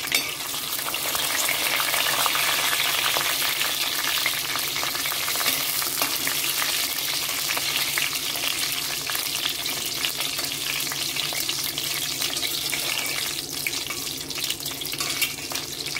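Whole spices including cumin, cashews, bay leaf and cardamom fry in hot oil, producing a loud, steady, dense sizzle that continues without a break and is heard alone, close up.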